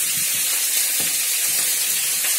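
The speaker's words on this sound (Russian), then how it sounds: "сейчас они быстро пожарятся" Cutlets fry in a pan with a steady, close hiss and crackle of sizzling oil, occasional sharper pops breaking through, and no voices.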